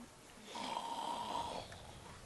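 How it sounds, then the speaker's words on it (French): A drawn-out theatrical snore performed during a stage play of Little Red Riding Hood, one long rasping breath heard faintly from a distance in a quiet hall. "Toujours ce même ronflement."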